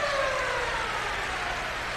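A hockey arena siren sounds to end a period in a 1985 Montreal Canadiens versus CSKA game, a loud sustained wail filling the rink over crowd noise.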